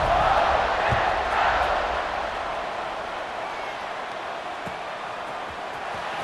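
A large stadium crowd roars at the kickoff of a college football game between Notre Dame and Ole Miss, a broad steady wash of distant cheering that swells early and then settles to a sustained murmur.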